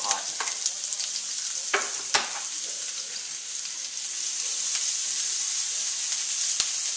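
Shallots sweat in hot oil in a saute pan, giving a steady, close crackling sizzle with occasional sharper pops and spits, with no talking.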